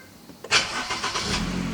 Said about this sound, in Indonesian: mesin langsung hidup ya teman-teman